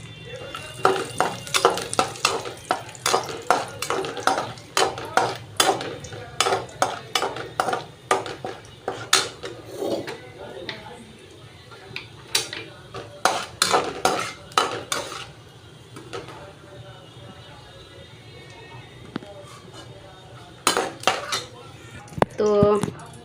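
Cashews and almonds roasting in ghee in a pan, heard mostly as repeated sharp scraping and clinking of a spoon against the pan in irregular bursts over a faint sizzle, with a voice now and then.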